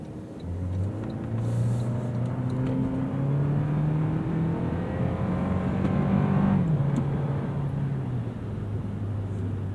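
A 2024 Toyota Land Cruiser engine drones steadily as the SUV climbs a hill, a loud, continuous low hum with gear-like pitch shifts and rising strain, heard from inside the cabin with no talking.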